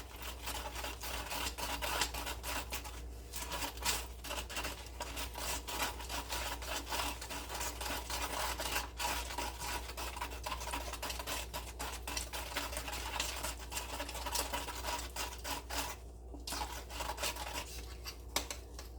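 Cement is mixed by hand for a handmade vessel, giving a continuous gritty scraping and rubbing close by, steady and unbroken over a low background hum.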